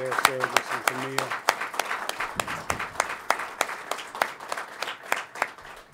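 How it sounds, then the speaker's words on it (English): A crowd at a governor's official event with Gold Star families and veterans claps in a sustained round of applause, sharp claps crackling steadily for several seconds after a brief voice at the start. "let us give a round of applause to Mecca and to Mario Nelson for their service"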